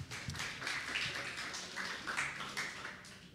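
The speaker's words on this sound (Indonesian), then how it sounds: "tepuk tangan untuk Javier" Audience applause for Javier at a church youth service, a steady wash of clapping from many hands filling the room with no voices over it.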